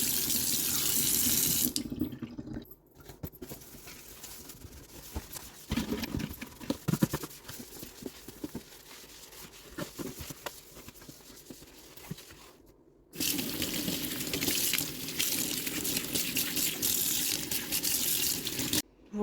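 A kitchen tap runs water to rinse a sink being cleaned, a close, steady hissing stream at the start, then quieter splashing and scrubbing sounds, before the full gushing flow returns loudly near the end.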